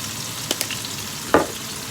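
Steak frying in a pan, a steady sizzle with a few sharp crackles and spits rising over the hiss.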